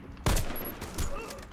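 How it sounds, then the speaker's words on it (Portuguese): Gunfire in the Warface video game comes as a sharp, loud burst of shots, then a second, softer volley a moment later, over faint game background. "Quem tá me atirando aí"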